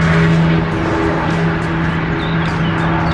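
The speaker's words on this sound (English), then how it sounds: "a lot of cars are driving here" Cars drive past outdoors in a windy spot, a steady, loud roar of traffic with no clear gaps between passing vehicles.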